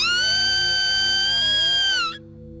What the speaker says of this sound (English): upon hearing this blood-curdling scream from behind us